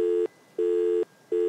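Telephone busy signal in a children's cartoon: three repeated steady tones with short silent gaps between them, clear and alone with no voices.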